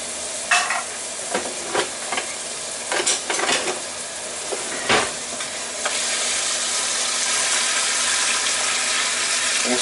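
Corn and diced tomatoes cook in a pan while a utensil stirs them. Scraping strokes and clinks come in irregular bursts for the first few seconds, then a steady, close sizzle fills the rest with no talking.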